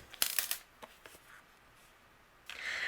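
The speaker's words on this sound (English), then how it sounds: "using my scissors, we're going to trim away the excess" Scissors trim excess patterned paper from a card during papercrafting, with several quiet, crisp snips and paper rustles close by.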